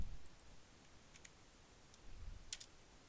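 Quiet, sparse clicks of a computer keyboard being typed on, a few scattered key taps with a slightly louder cluster near the end, over faint room noise.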